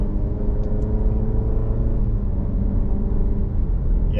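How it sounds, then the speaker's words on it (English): A 2023 Alfa Romeo Giulia Competizione's deep, steady exhaust rumble at low speed, quiet and smooth, with a faint engine whir and no voices. "this exhaust note, but very quiet, but beautiful"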